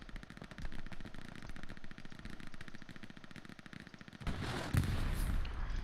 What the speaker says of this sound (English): Strafing run inbound on I column